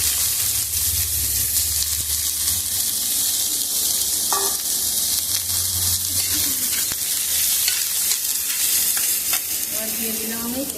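Chopped cabbage hits hot oil with garlic and ginger for a chicken momo filling, sizzling and frying steadily while a spatula stirs and scrapes the pan in the foreground throughout.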